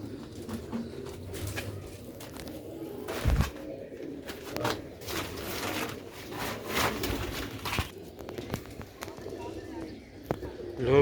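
Pure-bred pigeons coo softly off and on in a loft, pairs kept for breeding, under steady background noise and scattered knocks.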